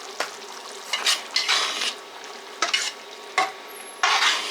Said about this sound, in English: I know y'all heard that sizzling.